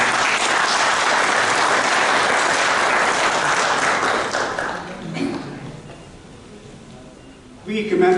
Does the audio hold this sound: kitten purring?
no